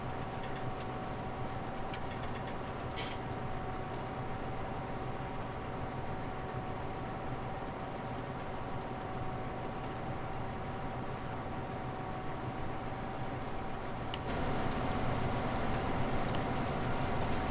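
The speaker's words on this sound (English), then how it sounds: "I wish when you were in the tractor the noise would be a little louder as well" A tractor engine in the Farming Simulator video game during a potato harvest, a steady low droning hum heard from inside the cab, growing slightly louder near the end.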